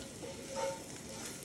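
Browned meat goes in with onions and garlic in a pot, giving a faint, steady sizzle with a brief tonal scrape partway through.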